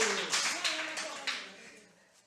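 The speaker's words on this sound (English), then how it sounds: "Can you clap hands for Lebanon?" A small audience claps hands briefly in a few scattered bursts at a charity talk, the claps fading off quickly in a room.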